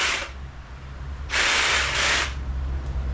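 A power drill bores through thick scrap wood in two bursts, a short one and then a longer grinding run, close and loud over a steady low hum.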